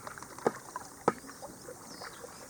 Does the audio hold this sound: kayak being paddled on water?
yes